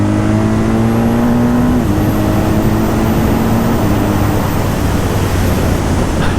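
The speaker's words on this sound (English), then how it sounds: "the way that this engine just kind of thumps along." A BMW R12 nineT motorcycle with an air-cooled boxer engine runs at steady road speed, a continuous loud drone mixed with wind rush, without pause for the whole stretch.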